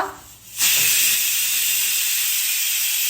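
Steam bursts from a pressure cooker on a gas stove with a sudden loud, steady hiss that begins after a brief quiet moment and continues unbroken.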